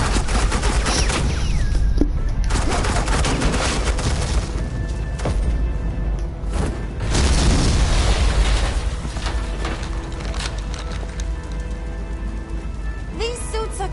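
Heavy suppressing gunfire pours out in the PS4 video game Batman: The Enemy Within, dense and loud throughout, with rattling automatic bursts and booming impacts layered over one another with no pause.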